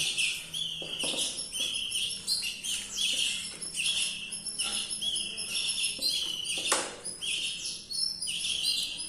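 Young canary chicks chirp in rapid, high overlapping peeps and tweets, close and busy throughout with no talking.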